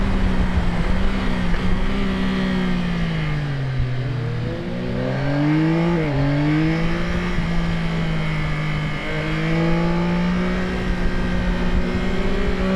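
A 2025 Yamaha Tracer 9 GT+ motorcycle engine pulling hard, a loud, close, continuous drone that climbs in pitch through quick gear changes, dipping and rising again with each shift.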